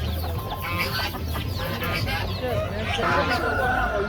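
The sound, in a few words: broiler chickens clucking at a poultry market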